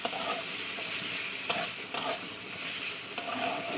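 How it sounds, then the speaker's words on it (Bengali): Green chilies and live pond shrimp sizzle together in a pan, a steady bright frying hiss with a few scraping stirs of a spatula, no voices. "কাঁচা লঙ্কা চিংড়ি একসঙ্গে দিয়ে দিচ্ছি দিয়ে এবার ভালো করে কষে দেবো"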